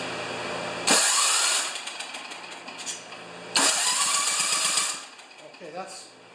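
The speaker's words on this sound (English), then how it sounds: "we're going to test that starter at the same time we do a rough check for compression" The starter on a John Deere TRS 24-inch snowblower cranks the engine in two loud, close bursts of about two seconds each, separated by a quieter pause, with a shorter fading sputter at the end.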